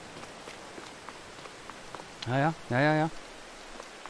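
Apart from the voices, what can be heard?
rain falling in video game Farming Simulator 22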